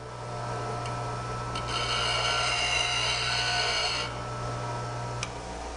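A bench grinder runs while sharpening a tool, a steady low motor hum under a broad, rasping whir that swells for a few seconds and then eases back, with a couple of faint ticks and no speech.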